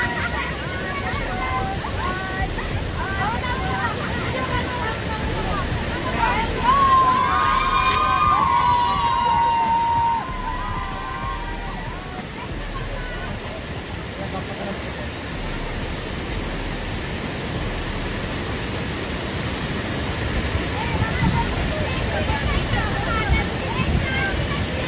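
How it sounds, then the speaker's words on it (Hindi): Lingmala waterfall in Mahabaleshwar rushing in a steady, moderate roar that lasts throughout, with faint voices and a brief whistle-like tone partway through. "देख सकते हैं कितना प्यारा और जबरदस्त वाटरफॉल"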